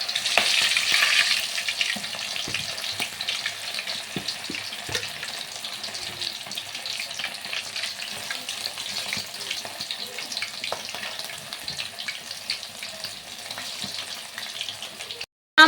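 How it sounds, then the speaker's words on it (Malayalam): Chicken frying in hot oil for a home-cooked biryani gives a continuous loud sizzle and crackle that stays steady throughout, with faint scattered clinks and no talking. "ഇനി ഇതാ ചിക്കൻ പൊരിക്കാൻ പോവാണ്"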